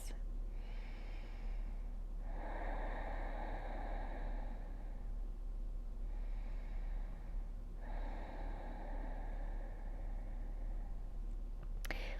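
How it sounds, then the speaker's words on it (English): Slow, deep breaths during a guided stretch: two full cycles of long, airy inhales and exhales, close and soft, over a faint steady hiss. "Two more breaths."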